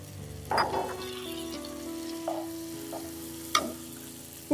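Onion, capsicum and cubed tomato frying in a pan: a soft background sizzle broken by a few sharp scraping stirs and clinks of a spoon, close and without speech.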